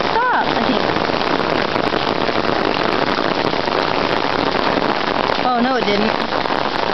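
Hail falls during a lightning storm, a steady, dense, loud patter that continues throughout, with brief voices near the start and later.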